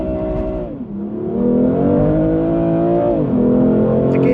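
A BMW M2 Competition accelerating hard from first gear, its engine note climbing and dipping loud and close through gear shifts with a brief lag between them, with no talk over it.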